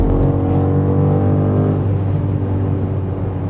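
2025 BMW M5 Touring pulling hard on the autobahn, a loud deep engine roar with rising harmonics and heavy tyre and wind rush, heard continuously from inside the cabin with no talking.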